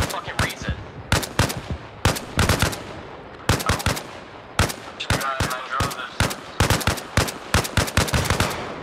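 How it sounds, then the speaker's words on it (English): Gunfire in the military shooter game Arma Reforger, set in Mogadishu, crackles in loud, sharp automatic bursts and single shots fired in quick succession over nearly nine seconds. "Who's shooting at me right now?"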